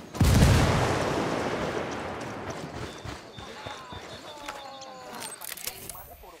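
A grenade blast and gunfire in the video game Ghost Recon Wildlands: one heavy close explosion whose rumble fades, followed by scattered sharp shots and clatter, with game voices talking.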